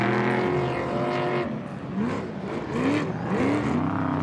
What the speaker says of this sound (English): Here's Casey Curry coming through the trophy Jeep.